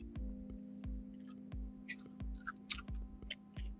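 Crunchy fries being chewed close to the microphone, a steady series of crisp bites and crunches about every third of a second over a low electrical hum, with no talk.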